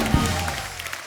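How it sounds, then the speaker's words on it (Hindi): Studio audience of The Kapil Sharma Show applauding the performers, a brief broadband patter of clapping under a voice, fading toward the end. "एक बार जोरदार तालियां हमारे सारे कलाकारों के लिए।"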